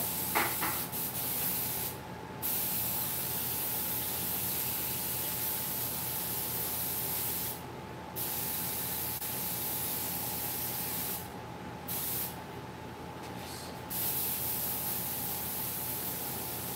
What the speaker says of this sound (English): What's important about spraying the hair on this guy is that I get the edge.